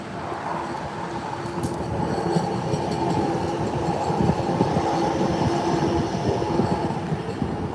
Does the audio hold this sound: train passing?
yes